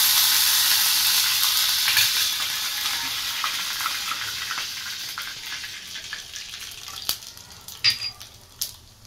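Ghee tempering with asafoetida, garlic, chili and curry leaves, a loud close sizzle at first that slowly fades into softer crackling, with a few sharp pops and clinks near the end.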